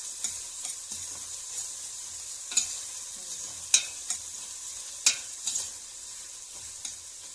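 Green beans and chopped onions sizzle in a pan with a little water while a utensil stirs through them, with scattered scrapes and clicks against the pan.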